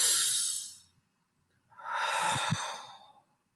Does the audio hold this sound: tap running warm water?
no